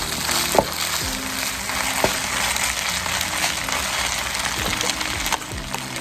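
Shrimp fried rice sizzles and crackles steadily in a hot pan, close and continuous, with occasional clinks of stirring.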